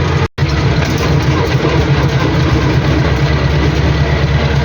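A tractor pulling a seeder while planting soybeans, a loud, close, steady low engine drone that runs continuously with a brief dropout near the start, no voices.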